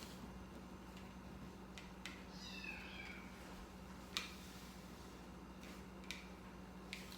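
A cat gives a faint, wavering meow over a low steady hum, with a few soft clicks and taps scattered around it in a quiet indoor space.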